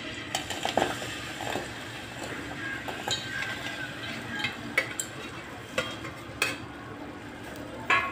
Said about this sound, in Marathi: तेल गरम झालेलं आहे, आपण याच्यात गूळ टाकून घेऊ।